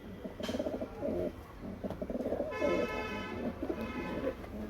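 Young pigeons of the pied and dark-headed kinds, being shown free of pox, give soft repeated cooing calls in short bursts close by, with a few chirps and faint background noise.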